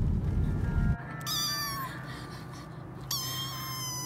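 A kitten mews twice, high and drawn-out cries spaced a couple of seconds apart, close and clear after a brief rustling handling sound at the start.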